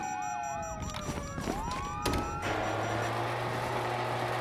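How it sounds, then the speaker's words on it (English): Wailing police sirens in GTA V sweep up and down, loud and close, over rumbling engine and traffic noise with no talking. "you hear that? Sirens."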